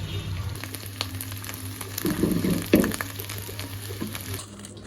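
Food sizzles and spatters in a hot pan, with a louder burst of frying partway through and a low background hum.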